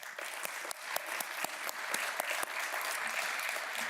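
Audience applause at a Bellwether League Foundation event, a quiet, distant round of clapping with a few distinct sharp claps standing out over the steady patter.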